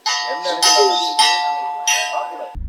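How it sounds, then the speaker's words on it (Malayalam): A bright metal bell at an elephant camp rings loudly for feeding time in several strikes, each ringing tone lingering and overlapping, then cutting off abruptly. "ഇവരുടെ ഭക്ഷണത്തിന്റെ സമയം അതിന്റെ മണിയാണ് കേട്ടത്"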